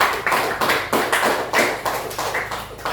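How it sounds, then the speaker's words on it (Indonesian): A class claps together in a lesson room, several hands striking in a fairly regular rhythm of distinct, close bursts that repeat about every third of a second. "Tepuk tangan."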